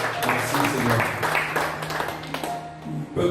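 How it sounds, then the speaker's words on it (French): A church congregation claps in praise, a dense, loud wash of applause mixed with voices and a sustained organ-like tone beneath. Cheers and calls rise over the clapping. "Laisse-nous applaudir le Seigneur, gloire de roi."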